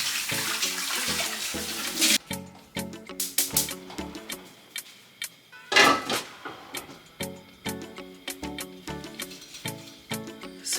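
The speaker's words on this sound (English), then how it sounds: "However, I can give it a second rinse." Oxtail being rinsed by hand in a bowl of water, with sloshing and splashing, then a string of wet knocks and clatters as the meat is turned against the bowl, close and alone.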